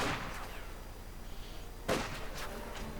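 A rifle grenade is fired in a real-time strategy video game, a sharp muffled thump over continuous battlefield noise, with fainter shots around it.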